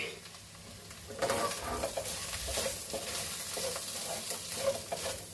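Egg curry being stirred in a pan, with a steady sizzle and scraping stir strokes that start abruptly after a quiet opening and continue close and fairly loud without speech.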